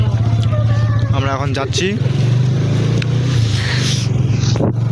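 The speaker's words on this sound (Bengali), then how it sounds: "বাইক স্টার্ট হয়ে গেল," A motorcycle starts up and rides off, its engine putting out a steady low hum with some scraping and rattling. Someone speaks briefly over the engine noise.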